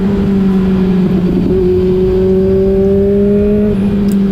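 Kawasaki Z900 motorcycle cruising on a village road and overtaking, a steady loud engine drone with a sustained note that shifts pitch as the throttle changes, heard alone from the rider's position.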